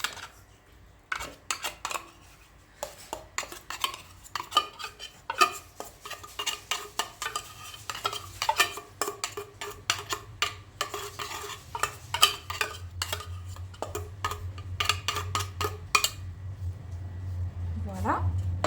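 A spoon stirs tuna and cheese together in a bowl, giving irregular clinks and scrapes that grow busier and quicker over time, with a short voice near the end.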